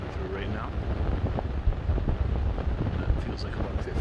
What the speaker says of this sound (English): There we got a pretty good gust coming through right now.